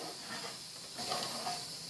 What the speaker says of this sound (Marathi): आणि आता याला चांगलं खळखळून उकळी येऊ देते।